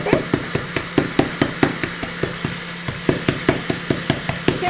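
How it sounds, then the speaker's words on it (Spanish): A mallet pounds biscuits to crush them, striking in a quick, regular rhythm of sharp knocks, roughly four per second, close and clear throughout. "con un muslero le van a ir dando pequeños golpes para ir rompiendo las galletas"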